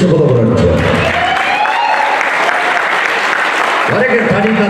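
Guests at a wedding celebration in Shymkent clap steadily in a sustained wave of applause, with a voice talking over it near the start and again at the end.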